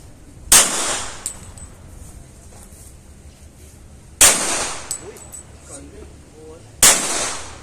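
1911 pistol shots at practice, three sharp loud reports spaced several seconds apart, each with a short ringing tail, with quiet talk in between.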